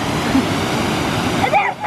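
A waterfall at a salmon run in Olympic National Park rushes in a steady, close, broadband roar that holds for a brief moment.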